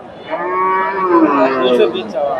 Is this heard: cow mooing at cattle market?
yes